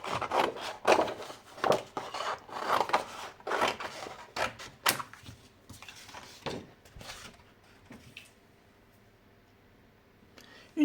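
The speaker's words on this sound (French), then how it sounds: "Je vais le faire au ciseau." Scissors cut out a paper template for a scrap-paper card or decoration, giving a run of close, crisp snipping and rustling strokes that thin out toward a quieter end.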